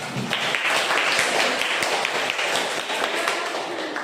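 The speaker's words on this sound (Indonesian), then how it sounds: "Tepuk tangan dulu dong." A classroom of schoolchildren claps steadily for several seconds, a dense patter of many hands with no clear pauses.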